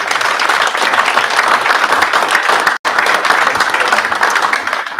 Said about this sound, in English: Let's give all our fourth quarter award winners one more round of applause.